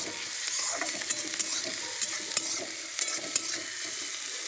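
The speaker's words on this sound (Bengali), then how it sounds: "এখন পেঁয়াজটা হালকা ফ্রাই হয়ে গেছে" Onion frying in oil in a pan, a quiet, even sizzle broken by sharp little clicks and spoon taps at irregular intervals.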